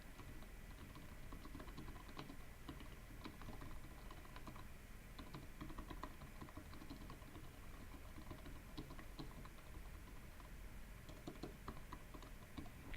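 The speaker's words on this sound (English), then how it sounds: "I'm going to type really quickly something that's" Rapid typing on a computer keyboard, a steady patter of soft key clicks running continuously and close, quiet with no speech.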